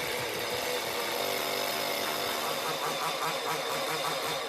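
A chainsaw runs loud and steady throughout, a continuous buzzing drone with no pauses, used by a barber to carve hair.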